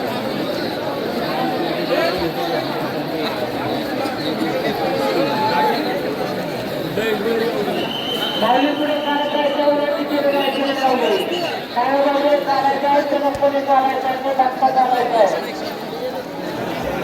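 Crowd of pilgrims on the Maghi Wari procession route, a dense, continuous hubbub of many voices close around, with several people speaking over the murmur.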